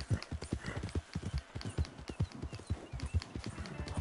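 Horse hooves clip-clopping in a steady, brisk rhythm on a trail in the Red Dead Redemption 2 video game, close and prominent throughout with no talk over them.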